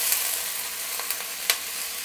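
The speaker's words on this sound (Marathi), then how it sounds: "भाजीला मिडियम गॅसवर 1-2 मिनटं परतून घ्यायची" Chopped fenugreek greens sauté in a pan over a medium gas flame, giving a steady hissing sizzle with a few soft stirring knocks, close and with no talking.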